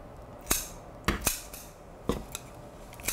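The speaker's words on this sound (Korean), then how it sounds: "먹기 좋은 크기로 잘라주세요." Kitchen scissors snip seasoned namul vegetables in a pan with a little sesame oil, giving about six sharp, close metallic clicks spaced irregularly over a quiet background.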